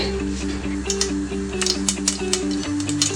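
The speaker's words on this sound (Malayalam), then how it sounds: "കടുക് വറക്കാനായിട്ട് നമ്മൾ പാൻ അടുപ്പത്ത് വെച്ച് കുറച്ച് വെളിച്ചെണ്ണ ഒഴിച്ച് കൊടുത്തിട്ടുണ്ട്. കടുക് ഇട്ടിട്ടുണ്ട്." Mustard seeds splutter in hot coconut oil in a pan on the stove, giving scattered sharp little pops and crackles over a steady tonal hum.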